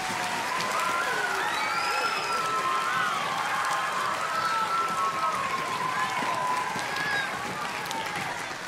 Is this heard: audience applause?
yes